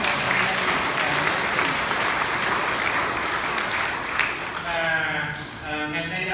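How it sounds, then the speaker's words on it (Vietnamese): A Catholic church congregation at a Father's Day Mass gives a long, steady round of applause, a close, even hiss of many hands, before a voice resumes speaking at the end. "Chúng ta vỗ một tràng pháo tay để cảm ơn."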